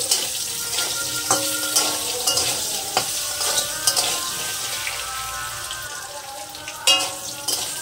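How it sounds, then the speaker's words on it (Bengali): Potatoes sizzle and crackle in hot oil while a utensil stirs and scrapes the pan with occasional clinks, close and fairly loud. "এই তেলের মধ্যে আমি"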